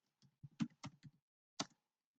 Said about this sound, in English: I'm just showing you by typing straight onto the screen